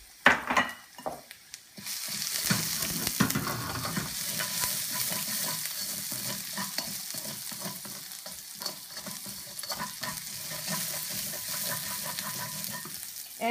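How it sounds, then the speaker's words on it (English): Ginger frying in a pan for vegetable chow mein, a steady close sizzle rising after a quiet start, with stirring scrapes and clatters running throughout. "Okay, so I fried up my ginger"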